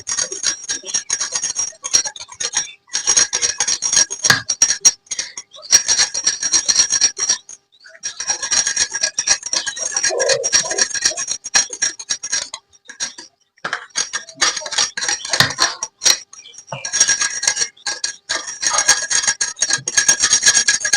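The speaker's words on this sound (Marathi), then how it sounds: "आता याच्यावरची ही सगळी साल आपल्याला काढायला लागणार आहे ही साल पहिली वरची काढून घ्यायची" A blade scrapes the bark off a cut piece of giloy stem, with loud, close, rough rasping strokes that come in bursts separated by short pauses.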